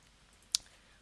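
A single sharp mouse click on a spreadsheet's percentage format button, brief and crisp against a quiet background.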